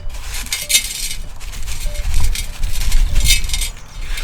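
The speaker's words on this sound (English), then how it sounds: "I'm going to start by putting a little bit of grit in the bottom" Grit pours into the bottom of a shallow bowl for a fairy garden, a series of gritty rattling and clinking bursts that come in uneven pulses, close and fairly loud.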